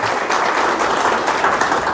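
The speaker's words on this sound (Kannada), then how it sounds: "ತಾವು ಚಪ್ಪಾಳೆ ಮೂಲಕ ಇದಕ್ಕೆ ಸ್ವಾಗತ ಮಾಡಬೇಕು" Dense, continuous clapping from attendees at a local government development meeting fills the whole stretch at a steady, fairly loud level, with no voices standing out.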